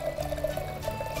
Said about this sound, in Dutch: Bastiaan, ik zal hem eens eventjes voor je inschenken